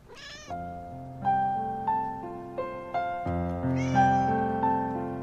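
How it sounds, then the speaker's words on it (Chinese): A cat meows twice, a drawn-out cry at the start and another near the end, close and clear over soft music. "喵星人一只求领养"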